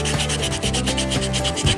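Steady, continuous rubbing of sandpaper on a carved hickory wood squirrel, a close, dense scratchy sound with slight rhythmic strokes throughout, no voices.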